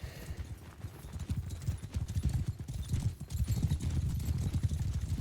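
Many hooves clop in rapid overlapping rhythm, a steady thundering gallop of several cavalry horses in the video game Mount & Blade II: Bannerlord, moderately loud and continuous with no voices.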